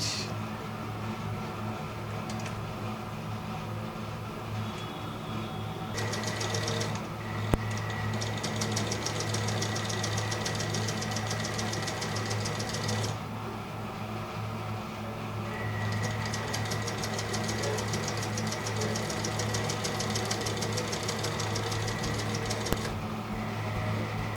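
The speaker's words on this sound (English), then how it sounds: "This one I'm sewing it on the right side." Sewing machine stitching Ankara fabric for a hair bow, a steady mechanical whir in two long runs, close and continuous, with a brief pause between them.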